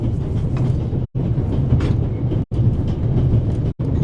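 A train rolls along rails through a mountain landscape in Switzerland in The Raven, a loud steady rumble with clattering undertones, broken by three brief sharp silences at regular intervals.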